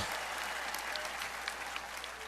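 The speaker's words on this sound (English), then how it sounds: "let's give them a round of applause" At a championship parade, a distant crowd applauds the team's medical staff, a faint, steady wash of clapping and cheering.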